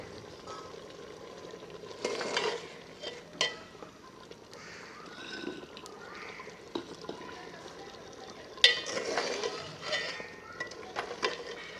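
A goat head frying in about two spoonfuls of oil over high heat as it is stirred, with a steady low sizzle and intermittent scraping and clattering bursts from the pot.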